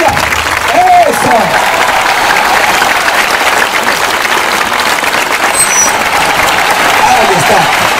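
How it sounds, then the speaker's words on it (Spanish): Audience applause at a street comedy show, loud sustained clapping from a crowd with scattered shouts mixed in, steady and dense from start to finish. "¡Un fuerte aplauso!"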